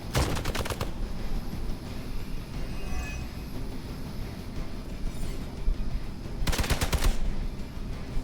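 In Marvel's Midnight Suns, two loud bursts of rapid automatic gunfire come at the start and near the end. Quieter game ambience and faint sounds fill the stretch between them.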